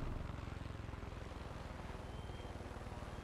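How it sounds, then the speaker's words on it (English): A helicopter in the video game Far Cry 5 gives a steady, close rotor chop, a fast even thumping pulse under a broad engine roar, with no talk. "Figure out how to fly a helicopter"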